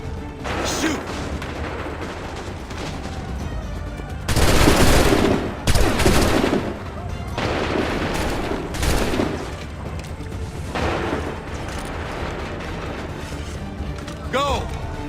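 A musket volley fired on command in Assassin's Creed 3, with several loud crackling bursts of massed gunfire, the heaviest around the middle, amid shouting voices and battle noise.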